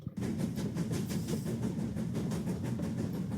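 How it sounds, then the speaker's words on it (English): A little train runs along a track in a railway video game, a steady rhythmic clickety-clack with regular wheel beats and rumble, loud and close, with no talk. "Oh yeah, a little train."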